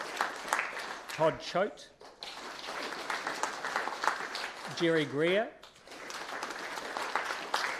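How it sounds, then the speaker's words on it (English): An audience at an inaugural council meeting claps for councillors-elect as their names are read out, a continuous background patter of applause under a voice announcing names. "keep your clapping going, you're doing well"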